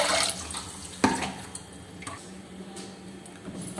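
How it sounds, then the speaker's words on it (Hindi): Soft splashing and trickling of water poured into a cooking pot for boiling sweet potatoes, with a sharp clink near the start and a few small drips after. "उसके बाद हमने इसमें पानी डालना है।"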